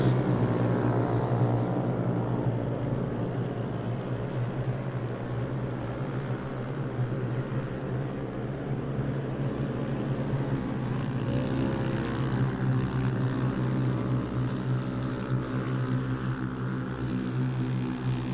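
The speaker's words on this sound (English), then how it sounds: "Looks like Joe Yamino loving the drone work out there" A drone buzzes steadily over a fairground short-course off-road race track during RZR 170 racing, a loud sustained propeller whine with shifting pitch that runs unbroken throughout, no talk.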